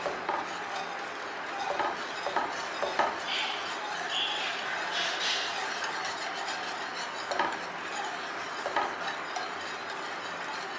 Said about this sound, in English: Now sugar. Spread it well and mix it.